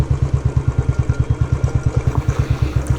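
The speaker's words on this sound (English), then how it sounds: "opening throttle like a mad shit crazy person" A motorcycle engine pulses in a rapid, even rhythm as the rider opens the throttle on a winding road, loud and close with no other sounds over it.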